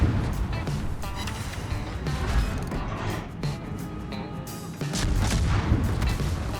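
Warship main guns firing in World of Warships, several heavy booms and crashes scattered over a continuous loud rumble of naval battle noise.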